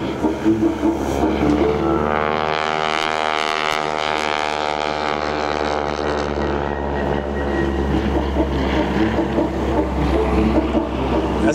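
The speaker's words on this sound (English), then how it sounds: "basically full throttle, as you heard it, to get that nice knife-edge pass with a heavy airplane" A heavy airplane performing at a wingwalking airshow at the Flying Circus in Bealton, Virginia, roars past at full throttle in a knife-edge pass: a loud, sustained propeller-engine drone that swells and shifts pitch as it goes by.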